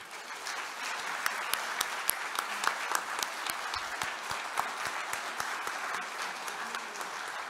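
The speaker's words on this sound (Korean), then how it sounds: "여러분의 가장 뜨거운 박수와 힘찬 박수로 청해 듣겠습니다" Steady, dense applause fills a party assembly hall as the audience welcomes a floor-leader candidate to the stage, a continuous wash of many hands with sharp individual claps popping out throughout.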